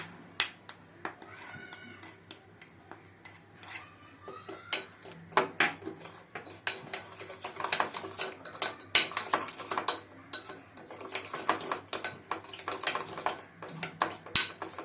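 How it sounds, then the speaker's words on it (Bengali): A spoon mixes spices into soaked tamarind in a bowl, clinking and scraping steadily against the sides for the whole stretch at a moderate level, with no one speaking. "আমি গুলে রাখা তেঁতুলের সাথে সব মশলার উপকরণগুলোকে মিশিয়ে নেব।"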